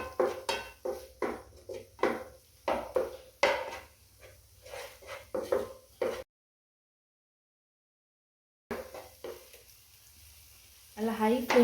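Ginger garlic paste frying in a hot pan and being stirred, with repeated sharp scraping and clinking strokes of a utensil against the pan over soft sizzling, then a silent gap before stirring resumes.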